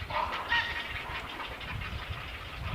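Grey herons and egrets call from a nesting colony in Cheonan, South Korea: a few hoarse, croaking cries ring out close by over a steady bed of low outdoor noise.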